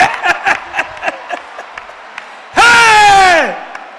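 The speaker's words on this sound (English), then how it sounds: "Give Jesus a clap" A church congregation claps and cheers at a ministry service. A voice speaks in short bursts at first, then a loud burst of crowd cheering and clapping comes in near the end and cuts off.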